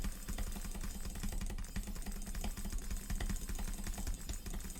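Rapid, continuous mouse clicking during Rise of Kingdoms forms a dense, steady clatter that runs throughout without pause, layered over a constant background hum.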